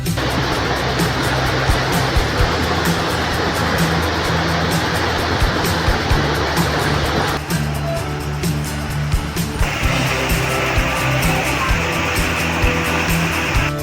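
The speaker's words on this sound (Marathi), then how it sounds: "दाभोळचा हा धबधबा आपल्या पूर्ण क्षमतेनं कोसळतो" A loud, constant roar of the Dabhol waterfall at Pokharbav, about fifteen to twenty feet high and in full flow, a dense rushing wash that barely changes, heard up close.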